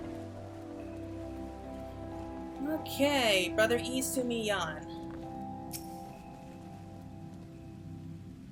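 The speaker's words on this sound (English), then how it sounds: "Oh, look, it's raining, just like today." Rain falls steadily in the Final Fantasy XIV video game, a soft continuous patter under game music, with a voice speaking briefly in the middle.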